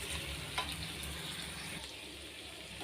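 Boiled taro root is stirred into fried onions in a pan, with a steady, close sizzle and hiss of frying and a brief scrape of stirring, and no voices.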